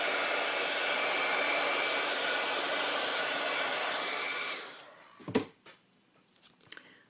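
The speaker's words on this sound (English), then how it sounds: "One way to get rid of the little loose glue strings is to take your heat gun and melt them." A heat gun melting loose glue strings on a handmade paper teacup tag blows a steady, close hiss for about four and a half seconds, then cuts off, leaving a few soft handling clicks.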